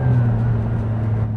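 Steady, loud engine whine from inside an Aston Martin Valhalla supercar on the move. A sustained, even drone with a high tonal edge, heard close up and alone, without speech.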